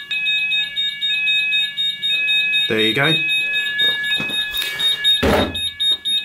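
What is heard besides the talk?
fire alarm panel sounding during weekly manual call point test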